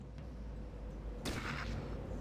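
Gunfire in the video game Fallout Tactics: a low steady background hum, then a single sharp burst of shots near the end.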